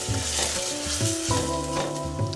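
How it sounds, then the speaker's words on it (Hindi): Chopped onions frying and sizzling in a pan for pav bhaji, a steady loud hiss with tonal hum from the stove and occasional stirring scrapes, no voices. "इसको हम जब तक कुक करेंगे जब तक कि इसका हल्का कच्चापन निकल ना जाए प्याज का।"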